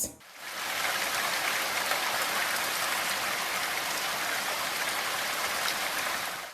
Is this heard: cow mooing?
no